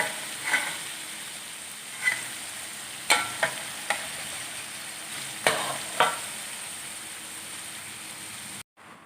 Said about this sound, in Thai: ทีนี้ เต้าหู้อ่อนกับเห็ดหอมคั่วแล้ว